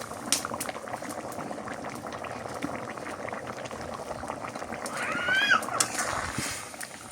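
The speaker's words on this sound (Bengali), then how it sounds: "তরকারি বলক উঠে গেছে" A pot of curry comes to a boil, giving a soft, steady bubbling and gurgling up close, with brief faint background noises and a slight swell of bubbling near the end.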